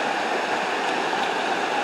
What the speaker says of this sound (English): The riverside, water flush down.